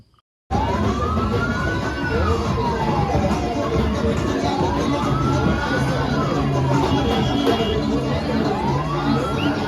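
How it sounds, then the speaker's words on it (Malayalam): An ambulance siren wails in slow rising and falling sweeps as it pushes through a packed election rally crowd on a blocked road in Kattakada, with the crowd's steady roar underneath. "പെട്ടെന്നൊരു ആംബുലൻസ് കടന്നു വരികയാണ്"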